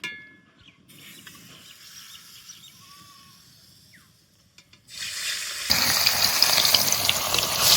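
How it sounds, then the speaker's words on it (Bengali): Fish dropped into hot mustard oil in a heated wok, the sizzle bursting in loud and steady after a quieter stretch of kitchen noise. "তেল ভালো করে গরম করে নিয়েছি, এবার মাছ দিয়ে দেবো।"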